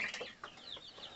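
Five-week-old guinea fowl keets chirp in quick, high peeping calls, several overlapping in close succession.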